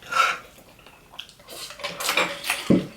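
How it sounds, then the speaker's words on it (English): Water thrown and splashed in a home kitchen amid clinking dishes and pots, a few scattered splashes and clatters that are close but fairly quiet, with no voices. "Why you gotta make so much noise when you throw water?"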